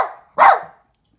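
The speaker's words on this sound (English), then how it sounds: "you always need to have the last bark" A Chiweenie dog gives a short, loud, sharp single bark close by after a brief trailing sound, then falls quiet.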